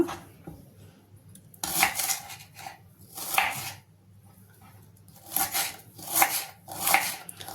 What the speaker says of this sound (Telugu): ఒక రెండు టమాటాలు అందులో వేయటానికి ఒక ఉల్లిపాయ ఒక మూడు పచ్చిమిరపకాయలు కోసుకొని పెట్టుకుందాం